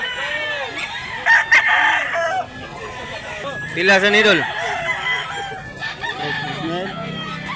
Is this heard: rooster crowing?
yes